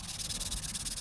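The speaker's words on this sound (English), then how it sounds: "Again, more sanding." Hand sanding on a hardwood scrap project, quick rhythmic back-and-forth rasps of sandpaper on wood, close and steady for about a second with no voices.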